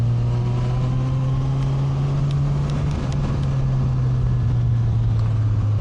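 Steady, close drone of a Suzuki GSX-S1000 motorcycle engine cruising at constant revs, with wind rush layered over the even exhaust note.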